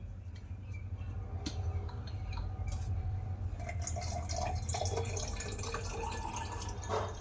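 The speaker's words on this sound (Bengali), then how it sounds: "তো ঠান্ডা জল আমি দিয়ে দেব।" Cold water pours steadily and continuously into a mix for homemade Thums Up cola, a soft, even stream heard on its own for several seconds.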